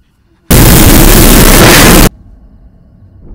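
A rifle fires in the horror video game The Quarry: one huge, loud, clipped blast of about a second and a half that cuts off abruptly into quiet room noise.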